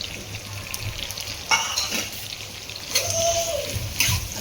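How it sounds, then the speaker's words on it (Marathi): Onion fries in butter and a little oil in a pan with a soft, steady sizzle. Stirring scrapes and sputters flare up twice along the way. "आता आपण चांगला कांदा भाजून घेऊया लाल होईपर्यंत"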